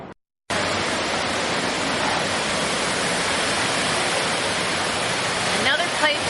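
Waterfall at Waterfall Garden Park in Pioneer Square, Seattle, a steady, dense broadband rush of falling water that stays loud and unbroken throughout, after a brief silent start.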